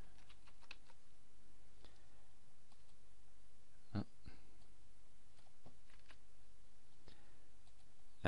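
Soft keyboard typing and a few sharper mouse clicks while logging into a WordPress admin panel, quiet and close, with scattered keystrokes and a couple of distinct clicks standing out over low room hiss.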